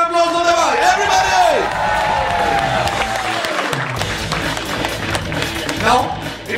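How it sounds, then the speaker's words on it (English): A big crowd gives a round of applause for a guest at a Colgate Face Off game show, dense clapping and cheering running under a loud voice that calls out and then fades into the crowd noise. "can we have a big round of applause for the guy? Everybody!"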